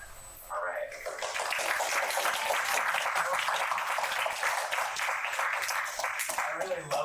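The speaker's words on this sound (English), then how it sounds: "we have multiple rounds of applause to punctuate each section" Sustained applause from an audience after a world-building presentation section, dense and steady clapping filling the whole stretch, loud and close with a slight swell after the first second.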